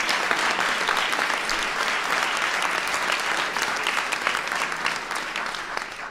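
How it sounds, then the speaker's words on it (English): Audience applause at a presidential event, a dense, steady round of clapping from a large crowd that stays loud and even from start to finish, with no speech over it. "Give Jacob a round of applause."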